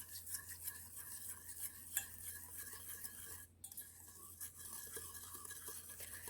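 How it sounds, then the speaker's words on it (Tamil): Sugar being mixed into coconut oil in a bowl, with faint, continuous scraping and gritty stirring and a few soft clinks of a utensil against the bowl, quiet and close, with a brief drop in the sound midway. "இதை இப்போ நல்லா மிக்ஸ் பண்ணி எடுத்துக்கோங்க"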